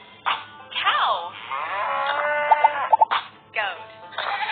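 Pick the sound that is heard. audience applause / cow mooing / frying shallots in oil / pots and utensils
cow mooing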